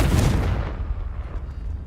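A Confringo fire spell cast in Hogwarts Legacy lands as a loud, booming blast that fades into a rumbling tail over about two seconds.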